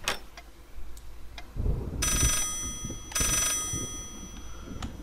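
An old-fashioned telephone rings inside the horror video game Layers of Fear, two loud bursts of bright bell ringing separated by a short pause, over a low rumbling background with scattered clicks.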